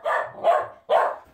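Three loud, close barks from an excited dog, evenly spaced about half a second apart, with no talking over them.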